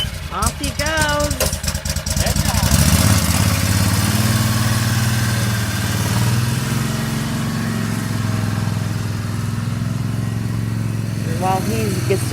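A Gator utility vehicle starts up and drives off on a wooded hillside where wood is being cut, its engine a steady, fairly loud drone after a few seconds of voices and rustling.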